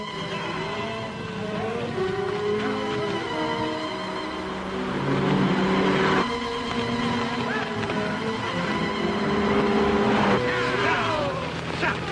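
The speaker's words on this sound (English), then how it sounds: "There's a car. Hear it? It's coming fast." A car approaching fast in a western film scene, its engine growing louder over a steady bed of tonal background sound, with the roar swelling in the middle and staying strong to the end.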